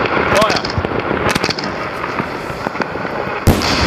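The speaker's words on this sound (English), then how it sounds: "remote firing a 20-inch canister shell" A 20-inch firework canister shell fired remotely, with a loud sharp launch burst near the start, crackling and popping bursts through the middle, and another sharp bang near the end over steady outdoor noise.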